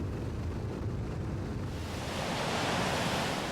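Floodwater from Hurricane Floyd surging through a town, a broad continuous rushing roar like heavy surf with wind noise, steady and loud throughout with no speech.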